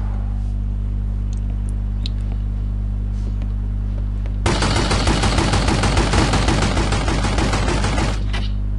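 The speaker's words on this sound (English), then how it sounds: "it has to be Sonny shooting like crazy" Sustained rapid gunfire from Sonny in The Godfather PC game bursts in abruptly after a low steady hum, rattling loudly for several seconds before cutting off.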